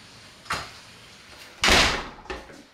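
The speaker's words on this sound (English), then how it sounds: "Gosh, you slammed that door." A door shuts three times: a light knock, then one loud, close slam, then a smaller follow-up thud, with quiet between them.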